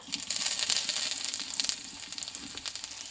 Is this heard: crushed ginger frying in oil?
yes